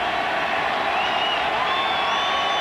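Crowd noise at the Superdome during a 1997 Seattle at New Orleans football game in the fourth quarter, a steady, dense roar of a modest-sized crowd with faint whistles and cheers drifting through, no distinct speech.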